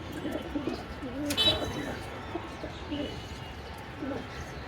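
Pigeons in a pigeon house coo softly in scattered low warbles, with a sharp brief clatter near the start and a steady background hiss.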